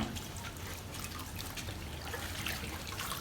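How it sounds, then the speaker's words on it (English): Water trickles and splashes softly as dyed batik fabric is washed by hand in Ghana, a faint, steady running flow with light drips throughout. "She's washing his own fabric"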